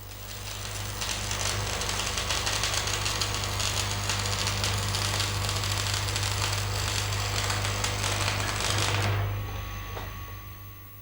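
Electric arc welding with a stick electrode held at about 70 degrees along the weld line, a loud continuous crackling buzz over a steady low hum, stopping abruptly near the end and leaving a fading hum.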